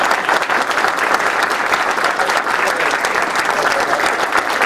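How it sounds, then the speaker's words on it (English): A Navy retirement ceremony crowd applauds after the national anthem, with steady, dense clapping from many hands that stays loud and even throughout. "let's give a great round of applause to that wonderful national anthem"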